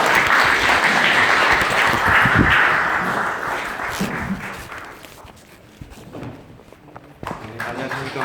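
An audience at an academic Buddhist conference in a temple hall applauds as a monk is invited to present, dense clapping that gradually thins and dies away, followed by quieter room sounds and faint talk.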